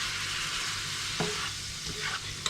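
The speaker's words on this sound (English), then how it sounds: "And now I stir everything in." Mushrooms and wine are stirred in a hot pan, with a steady hiss of sizzling and a few soft scrapes of the utensil against the pan, close and without talk.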